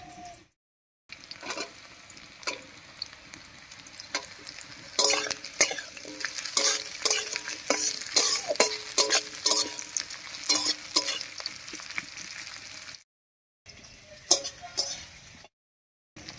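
Carrots and slit green chillies fry with browned onions in a pan for a cabbage dish, a steady sizzle broken by rapid scraping stirs and utensil clicks, with short silent gaps near the start and end.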